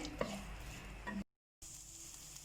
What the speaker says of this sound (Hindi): ये देखिए जी, प्याज हमारा सौते हो रहा है।